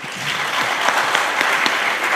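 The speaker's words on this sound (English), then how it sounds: "Can we give them a round of applause?" Audience applause for the panelists of a panel discussion on drug abuse and mental health in north east Nigeria: steady, dense clapping from a crowd, sustained evenly throughout with no voices over it.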